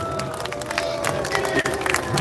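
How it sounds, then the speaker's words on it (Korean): A crowd at an outdoor political rally in Gwanghwamun, Seoul applauds, with dense clapping and scattered cheers close around, steady throughout. "우리 격려하는 의미에서 큰 박수 한번 보냅시다."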